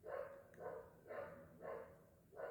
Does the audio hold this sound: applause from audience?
no